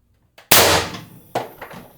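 An IntruBuster G2 airgun with an expansion stock, running on 750 psi HPA, fires a single sharp, loud shot up close, followed by a brief metallic clack about a second later.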